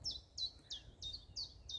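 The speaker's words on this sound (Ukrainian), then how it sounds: "Співають птахи." A single bird in a spring forest repeats a bright, descending chirp six times in an even rhythm, fairly faint against a low outdoor rumble.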